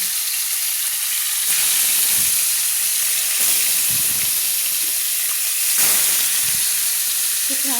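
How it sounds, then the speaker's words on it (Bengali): Koi fish sizzling and frying in hot oil in a pan over a medium flame, a steady loud crackling hiss with bursts as each fish drops in, close up and without talk. "আমি এইভাবে মাঝারি ফ্লেমে রেখে আমি কই মাছগুলো আমি ছেড়ে দিচ্ছি"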